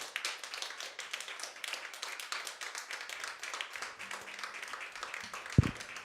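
Dense applause from a concert audience at a live show, steady clapping throughout, with a sharp knock near the end.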